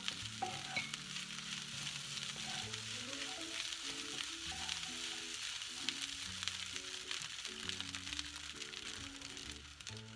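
Beef and egg fried rice stir-fries in a pan, a steady close sizzle with repeated scraping and tossing strokes running throughout, with no talking.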